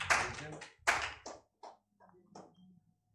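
Brief applause from a small group, two short bursts of clapping up close followed by scattered softer claps fading out, with a voice in between.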